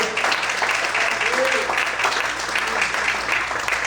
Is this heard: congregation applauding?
yes